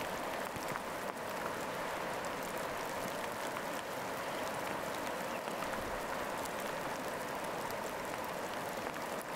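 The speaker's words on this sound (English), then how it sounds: "the raindrops on the ladder's rungs create a soft melody" Soft, steady patter of rain falling on wooden ladder rungs in a rainy forest, a dense even hiss of drops with faint scattered taps, continuous throughout with no voices.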